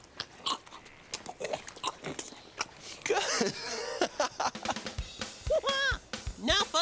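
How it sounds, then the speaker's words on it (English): A horse chews food with repeated crisp crunching bites at an irregular rhythm, close to the listener, with people talking and laughing over it in the second half. "Listen to the sound that horses make when they chew."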